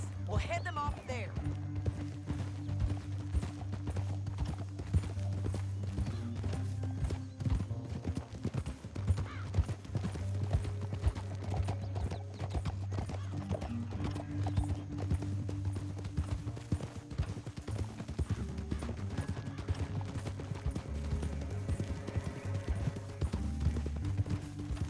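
Horses in the video game Red Dead Redemption 2 move along with continuous rhythmic clip-clopping hooves and an occasional whinny. Game music plays beneath, and characters talk over the hoofbeats throughout.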